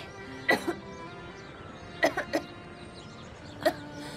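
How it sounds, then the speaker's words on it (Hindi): A person coughs in short dry bursts, three separate fits spread over a few seconds, some in quick doubles, faint against a quiet room. "तुम्हें तो खांसी हो गई है।"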